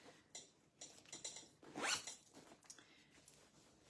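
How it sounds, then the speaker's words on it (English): A zipper pulled open on the front pocket of a handmade bag trimmed with leather cord pulls, a few short scratchy rasps building to one longer, louder zip near the close mic, with no voices. "I've trimmed them with a little bit of leather cord so you can pull the zip open easily"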